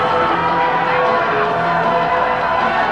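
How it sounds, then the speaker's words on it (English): A wrestling crowd keeps up steady, loud cheering and whooping after a match, a dense unbroken roar throughout. "These fans are not stopping."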